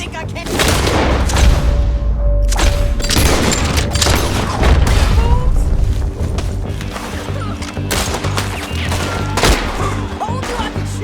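Gunfire in Red Dead Redemption 2 rings out as a dense series of loud, close shots and booming cracks, closely spaced at first and then thinning, over constant rumble with occasional voices.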